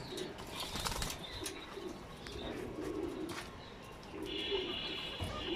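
Pigeons kept by a Bangladeshi fancier coo in soft, low bursts while wings flap and flutter nearby, with a few chirps mixed into the quiet, close-up scene.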